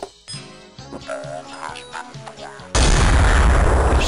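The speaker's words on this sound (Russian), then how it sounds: "Открывает зум, наводит на модельку через стеночку и стреляет." A zoomed rifle fires through a wall in a first-person shooter video game. A single loud, abrupt shot blasts in near the end, followed by a dense, sustained crackling tail, after a stretch of game sounds and faint talk.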